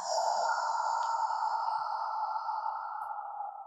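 A long, steady exhale during a Pelvic Flow breathing exercise done while fasting: one sustained, breathy whoosh close to the mic, lasting most of the clip and fading gently at the end, alone without talk.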